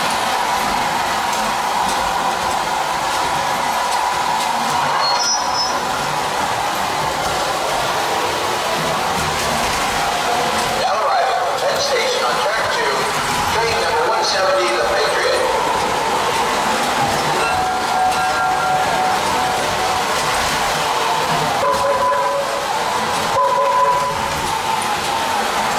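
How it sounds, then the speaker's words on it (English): Two model trains rumble and click along their track continuously, a steady mechanical whir with occasional metallic squeaks, no voices present. "we got two trains running simultaneously here."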